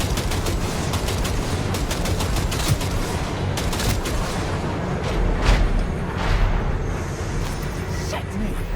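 A 20mm autocannon fires in Cyberpunk 2077 as loud rapid bursts and booming impacts in a dense battle din, with a voice speaking over the gunfire.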